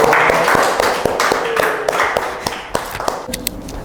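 Audience applause for Kak Rahmi at the close of a campus podcast interview, a burst of scattered claps and taps that thins out over a few seconds, with a faint voice briefly underneath.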